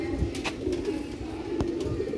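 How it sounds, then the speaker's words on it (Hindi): Pigeons and quails of a Sialkoti breed sending out soft, low coos that run steadily through the clip, with a few short chirps on top. The birds sound close by and there is no talking. "मैडिकल वाले भी कबूतर बटेरे ही होंदे ने।"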